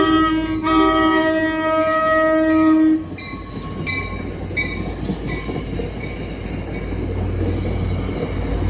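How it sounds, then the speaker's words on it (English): A Metro-North commuter train passes close and loud, a sustained horn blast opening before giving way to the roar and clatter of wheels on rails, with brief squeals along the way. "Okay, it's a Metro North train."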